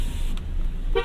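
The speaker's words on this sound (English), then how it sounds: "Do a horn test." A short, close horn blast from a 2024 MG Marvel R Alpha electric car sounds inside the cabin.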